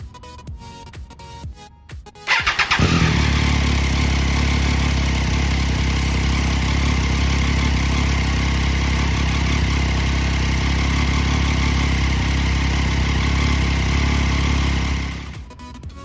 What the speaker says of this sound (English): revved back up, let her get up to operating temperature